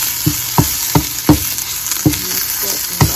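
Wild bolete mushrooms stir-fry in a pan, a constant sizzle broken by about eight sharp scraping clacks of a utensil stirring at an uneven rhythm, close and fairly loud.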